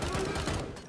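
Dense gunfire from a fierce shootout in the Iko Uwais action film Headshot, loud and continuous rapid shots filling the whole second with a faint voice beneath.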